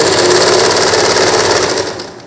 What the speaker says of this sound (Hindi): देखिए मैं सिलाई जो है इसी निशान के ऊपर ही लगा रही हूँ